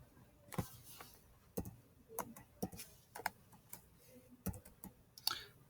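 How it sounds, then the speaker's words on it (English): Sparse, quiet clicks of keys being typed on a computer keyboard, irregular and faint against a soft background hiss. "So I'm just going to go ahead and type those in."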